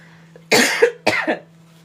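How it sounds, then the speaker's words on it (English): Two sharp, close coughs in quick succession over a faint low hum, with near silence before and after. "I just started coughing."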